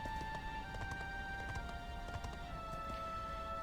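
A horse trots in the Dragon Quest 11 video game, its hooves clip-clopping in a quick, even rhythm over a constant background hum throughout.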